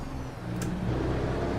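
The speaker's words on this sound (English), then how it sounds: "Hear the sounds of that Cat 15 bellowing" A Cat 15 truck engine in American Truck Simulator drones low and loud, the rumble swelling slightly as the rig pulls away from a green light.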